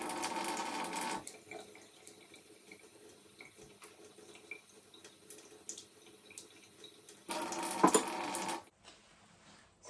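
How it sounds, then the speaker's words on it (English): Tap water runs into a cup in a steady, close splash for several seconds, swelling briefly louder near the end before cutting off, with no talking. "And now some tap water."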